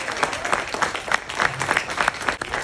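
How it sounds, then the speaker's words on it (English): Audience applause at a live magic and illusion show in South Lake Tahoe, a dense steady patter of many hands clapping for nearly three seconds with slight swells, no talk over it. "Give her a big round of applause."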